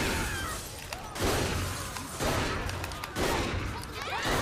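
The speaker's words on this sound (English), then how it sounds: "I got an awesome shotgun." Shotgun blasts in the video game Saints Row: The Third, a few loud booming shots roughly a second apart over busy game noise, each followed by a rattling tail and debris.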